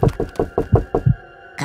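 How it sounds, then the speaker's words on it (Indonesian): Knocking on a bedroom door in a boarding house: six quick, evenly spaced knocks, close and clear, followed by a short pause and then a faint thud. "Aku ketuk pintu kamar Kak Dita."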